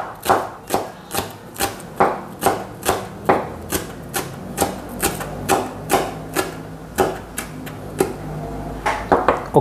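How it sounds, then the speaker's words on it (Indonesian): A knife thinly slices spring onions on a cutting board, with close, crisp chops falling in a steady, even rhythm of about two per second throughout. "Sekarang kita iris-iris tipis atau iris-iris kecil si daun bawangnya."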